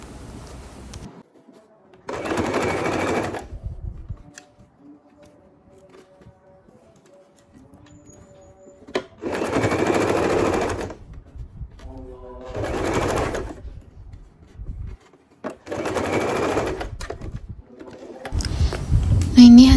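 Bursts of a sewing machine loosely stitching the back pocket of men's trousers, several loud runs of a few seconds each, separated by quiet gaps with faint sounds and a brief tone.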